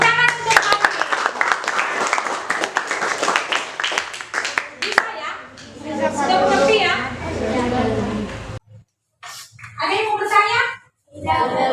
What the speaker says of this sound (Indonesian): Iya, tepuk tangan untuk Alin.